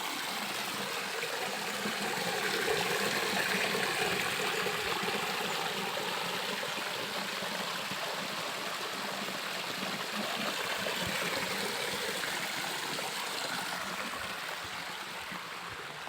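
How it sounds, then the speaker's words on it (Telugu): Water from a mountain stream tumbles down from above into the stepped stone pools at Rama's pools beside a hill temple, a steady, broad rushing flow that stays close and continuous. "పైనుంచి వాటర్ ఫ్లో అవుతూ వస్తుంది"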